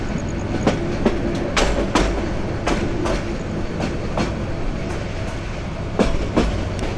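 Turna Express night train at Bhairab Bazar Junction, with loud rhythmic clickety-clack of wheels over rail joints and a steady rumble of the carriages close by.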